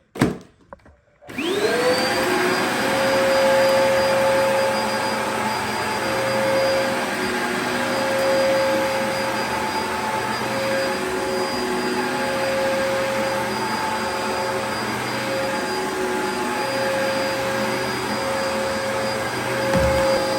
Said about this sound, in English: Starting off with the DC01, the classic British Dyson.